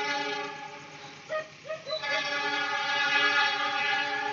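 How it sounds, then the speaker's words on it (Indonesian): A passing train near Bukit Pasir Ripis sounds a long, steady horn blast, with a few short rising toots partway through, while rail noise continues beneath. "Ada kereta lewat guys."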